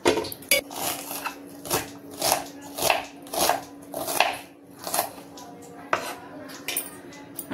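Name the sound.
onions being thinly sliced with a knife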